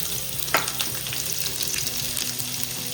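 Finely chopped onions hit hot oil with bay leaf and shahi jeera in a pan for restaurant-style paneer curry, giving a steady close sizzle and crackle with one sharp spatter burst early on; no voices.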